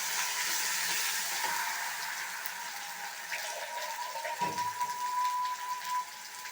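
Ground bottle gourd chutney sizzling and bubbling in a pan as it is stirred, a quiet steady hiss with faint scraping and a brief gurgle midway, no talk.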